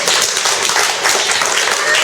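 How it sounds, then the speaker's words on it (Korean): A lecture audience claps together in a continuous, dense burst of applause throughout, loud and close, with no pause in the clapping. "박수 한번 치세요."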